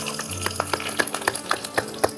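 Chillies for a tadka sizzling in hot oil while being stirred, a steady close fry hiss with regular scraping strokes of the spoon, and no talking over it.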